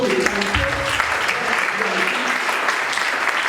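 A church congregation clapping, a dense continuous wash of applause from many hands, steady and fairly loud, with a voice briefly audible underneath near the start.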